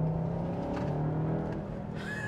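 A 2022 Skoda Kodiaq RS engine in sport mode, driven through corners, heard as a steady, droning turbocharged engine note with a shifting pitch, close and continuous, without speech.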